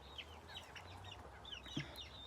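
Backyard chickens, a rooster among hens, clucking softly in a garden, with quiet scattered clucks and one brief louder call over low outdoor background noise.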